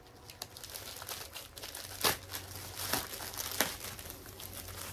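A package is opened by hand with continuous close paper crinkling, broken by a few sharper tearing rips.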